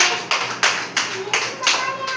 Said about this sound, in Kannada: ಎಲ್ರು ಚಪ್ಪಾಳೆ ಹಾಕ್ರಿ